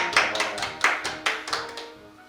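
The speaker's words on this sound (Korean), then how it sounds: "박수 드리고 싶어요" A handful of sharp, close hand claps ring out in an uneven, loosely spaced run after a magic trick. Each slap is crisp and bright, and the last ones fade out softer.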